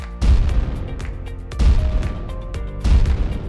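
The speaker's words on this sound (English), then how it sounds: "keep firing them cannons" Cannons boom in celebration of the Tampa Bay Buccaneers' Super Bowl LV victory, three loud, heavy blasts spaced about a second and a half apart, each with a rumbling decay.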